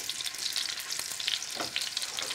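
Scallops and crushed garlic cloves frying in oil in a fully heated pan over high heat, giving a steady close sizzle with crackling bursts and a brief stirring or shifting sound partway through.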